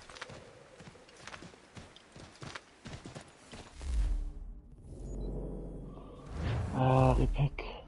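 Horse hooves clip-clopping in the video game Assassin's Creed 3 Remastered, a steady walking rhythm mixed with game sounds. A voice talks over the first half, and a louder rumble and tonal swell come in near the end.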